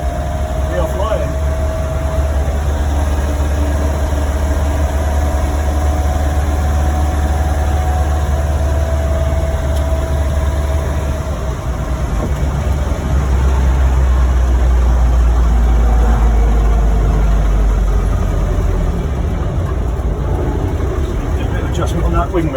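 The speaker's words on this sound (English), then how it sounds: "Nice quiet gearbox, nice quiet Land Rover, not quiet Land Rover, we are flying." Land Rover Series One running on the road, with a loud, steady low engine drone and whining gearbox heard from inside the cab throughout, and someone talking over it.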